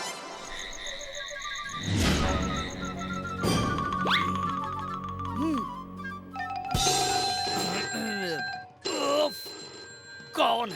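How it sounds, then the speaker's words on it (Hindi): A telephone bell rings in bursts amid a busy mix of voices, chimes and cartoonish sound effects in a Hindi children's cartoon. "इस फोन की आवाज से मैं डिस्टर्ब हो रहा हूँ"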